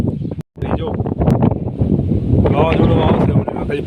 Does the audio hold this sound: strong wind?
yes